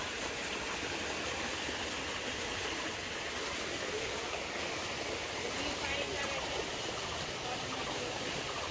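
Water splashing in a village pond, steady broadband rushing and sloshing throughout with no clear pauses, fairly close and moderately loud.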